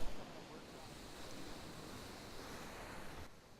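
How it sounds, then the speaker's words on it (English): Surf rolls onto a beach on a clear day, a steady, fairly faint wash of breaking ocean waves mixed with wind buffeting the microphone, with no speech. "it looks like we have some pretty good waves out here today"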